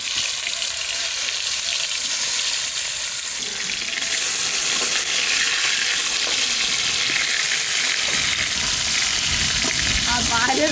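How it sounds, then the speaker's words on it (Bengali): Pieces of fish fry in a pan with a constant loud hiss and crackle, running steadily throughout without speech. "এখন মাছগুলো ভেজে নেবো।"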